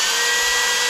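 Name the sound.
belt sander running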